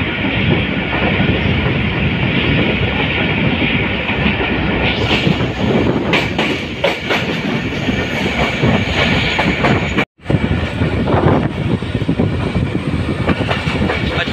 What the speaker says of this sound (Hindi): ट्रेन अच्छे विसल के साथ शाह लतीफ एक्सप्रेस